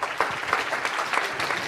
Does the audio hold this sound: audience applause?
yes